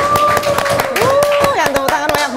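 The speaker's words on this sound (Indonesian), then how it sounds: "Yang tepuk tangan banyak banget di sini" An audience claps rhythmically along with a young pop singer's performance, sharp, evenly spaced claps beneath a sustained, wavering sung melody.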